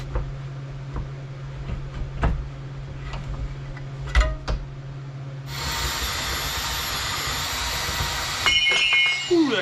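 An abrasive cutoff tool slices through welded steel cross member pieces in a Chevy truck workshop, starting as a loud, steady high-pitched grinding whine after a few scattered clanks and taps, then shifting pitch as the cut finishes.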